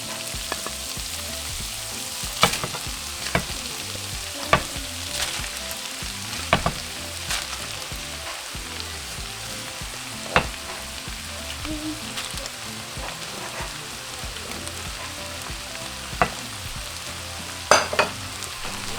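Diced potato frying with cooked onions and chipotle peppers in a pan, a steady close sizzle broken by sharp scraping clicks of a utensil as everything is stirred together.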